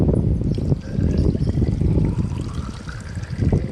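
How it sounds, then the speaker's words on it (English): Water pours from a container into a terracotta plant pot, a close, loud, continuous splashing trickle with gurgling bursts throughout. "So I have poured the water into this terracotta"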